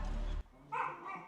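Dogs kept in a house give a short, faint bark or yip, a brief cluster of sounds heard alone.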